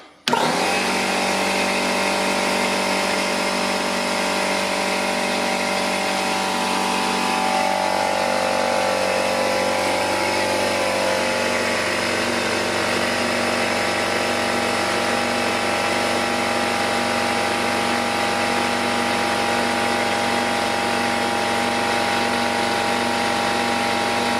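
A quiet shop air compressor, newly switched on with its drain cock closed, starts abruptly and runs continuously at a steady motor drone while pumping up toward about 100 psi, the pitch shifting slightly partway through.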